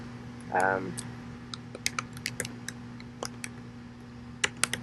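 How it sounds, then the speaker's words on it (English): A computer keyboard clicks in scattered bursts of keystrokes, some close together and others spaced apart, after a short spoken remark at the start, with a faint steady hum behind. "I have got to type this one"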